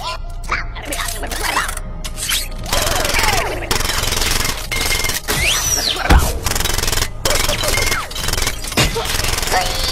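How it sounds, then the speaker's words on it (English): Grinding metallic crunches and cracking impacts as a robot tears its way out of a box in a Transformers movie scene, loud and continuous with jagged bursts throughout. "Oh, he's breaking the box."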